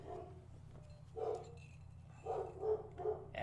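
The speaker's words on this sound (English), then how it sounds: "As Captain Fantastic is barking at people through the window, walking on the sidewalk" A house dog barking from indoors at passers-by seen through a window: a short bark, then a quick run of three or four barks, faint and a little distant over a steady low hum.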